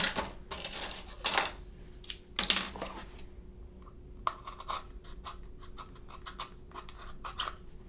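Scissors snipping slits into paper for an origami circuit project, several short dry cuts in uneven bursts close by, with quieter paper rustling and handling between them.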